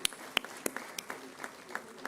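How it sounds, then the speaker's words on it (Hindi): Scattered applause rises at an agricultural research council foundation day award ceremony: separate sharp claps ring out at irregular intervals over a low murmur from the room, with faint speech in the background. "तो आप सभी से रिक्वेस्ट है कि जोरदार तालियां बजती रहनी चाहिए।"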